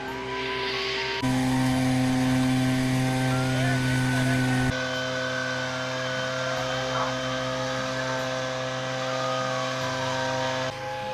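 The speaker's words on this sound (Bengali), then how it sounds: "হুবাহু সেই ধান কাটার মেশিন মেশিনের মতো এই চা কাটার মেশিন বের হয়েছে নতুন" A new tea leaf cutting machine, built like a rice harvesting machine, cuts tea in a garden in Tetulia, Bangladesh, with a steady loud mechanical hum and engine drone that shifts in pitch partway through.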